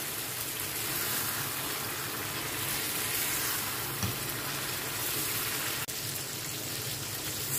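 Chicken and parboiled potatoes stirred together in a hot pan for biryani, a steady close sizzle with faint scraping and one brief clink, no voices.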